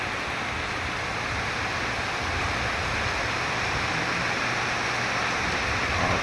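Steady, dense hiss of rain pouring without pause, even and fairly loud throughout, no voices.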